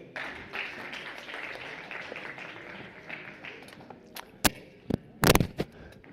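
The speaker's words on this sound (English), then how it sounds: "Can we clap for Botumelo?" Audience applause at a ministerial panel discussion in a conference hall, a broad steady patter of clapping from many hands that thins out into a few louder, isolated claps near the end.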